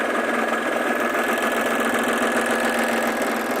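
A serger sewing machine stitches denim pieces together with a steady, fast mechanical whir and a continuous buzzing hum, close and uninterrupted, with no talk.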